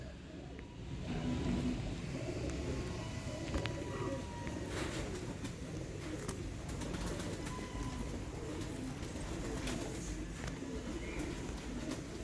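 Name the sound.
Sialkoti Ali-wale pigeons cooing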